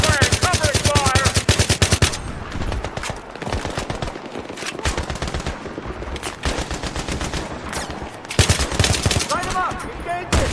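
Dense automatic rifle and machine-gun fire during a Battlefield 3 campaign battle, sustained rapid bursts up close with overlapping distant shots, loud and nearly continuous while shouted voices break in briefly.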